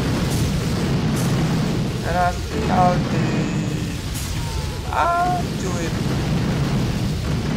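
Boom cannon shells from Boom Beach explode in a rumbling, booming stream of blasts amid layered battle noise, continuous and loud, with someone talking briefly over it.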